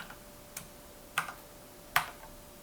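A few sparse, crisp key taps on a computer keyboard while code is typed, spaced irregularly with quiet pauses between them, close and isolated.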